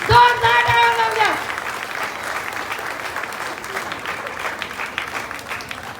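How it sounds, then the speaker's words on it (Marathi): Audience at a community cultural program in Worli clapping strongly after a prize announcement, a steady dense wash of applause following a brief spoken phrase at the start. "जोरदार टाळ्या वाजवा"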